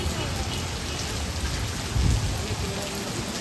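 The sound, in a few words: heavy rain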